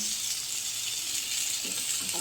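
Tomato dropped into hot oil in a pan, giving a steady, bright hiss of frying throughout, close and even, with a faint stir or clink near the end.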